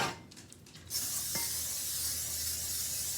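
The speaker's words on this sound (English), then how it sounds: "So I'm going to put a light coat of cooking spray," Cooking spray hissing onto a pan on the stove: after a few soft handling noises, a loud, continuous close-up spray begins and runs steadily to the end, with no talking.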